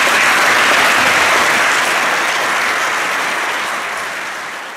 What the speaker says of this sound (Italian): volevo un applauso per voi che siete venuti ad ascoltarci